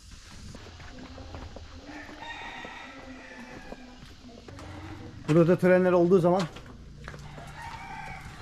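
A rooster crows loudly once, long and harmonic, among village roosters and fighting cocks in Tenganan, Bali, with someone talking before and after and soft clucks in the background.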